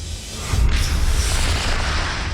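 A rocket launches during an outdoor ranch test, a loud deep boom followed by a sustained rushing roar that holds steady for a couple of seconds.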